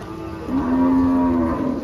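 A single cow in a line of cattle lets out a long, loud, close moo that swells and holds for over a second before trailing off, with rain faintly behind.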